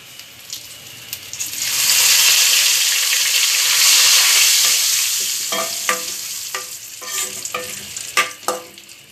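Whole cumin, fennel seeds and bay leaves hit hot oil in a pan for a Bengali vegetarian dhoka dish, giving a loud, close burst of sizzling that fades as the spoon scrapes and stirs in sharp clinks.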